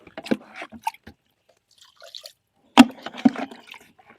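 Liquid fertilizer made from rotten bananas and leftover rice water is poured onto vegetable plants, with scattered close splashes and drips in short bursts, the loudest near the end.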